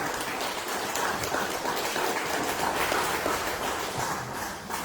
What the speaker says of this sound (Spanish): Den un aplauso al Señor en esta mañana.